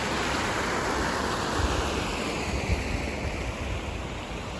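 A creek swollen after about four inches of rain rushes in a loud, steady, broadband roar of flowing water, continuous and close, with no talk.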